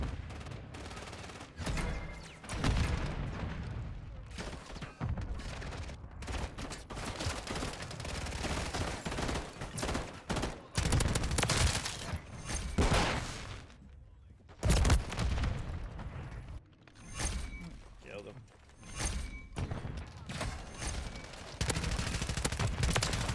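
Gunfire in the video game Call of Duty Modern Warfare 3: repeated loud bursts of rapid shots with heavy booms throughout, broken by short pauses, with other battle sounds in between.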